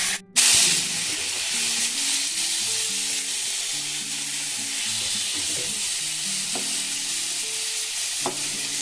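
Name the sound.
onion, green chili and spices frying in a pan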